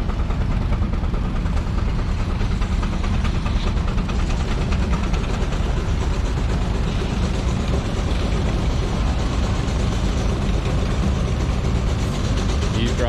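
Steady, dense mechanical roar of steam tractor engines running continuously on a dynamometer at a threshers' show, a thick low rumble with machinery clatter and no pauses.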